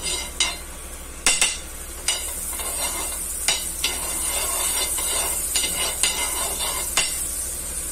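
Butter spread across a pan to toast hot dog buns, a soft continuous sizzle and hiss broken by a series of sharp scraping strokes and taps at irregular intervals, with no talking.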